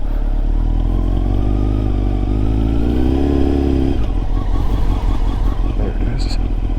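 A 2000 Honda CBR929RR sport motorcycle runs on a test ride after a rebuild, the engine droning and rising in pitch, then dropping and clattering, with a rider talking over it.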